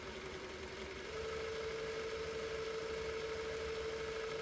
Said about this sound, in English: That bobbin is winding nicely.